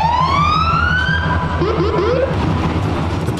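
A police car siren wails loud and close, one long rising sweep followed by shorter warbling swoops over a background of road noise.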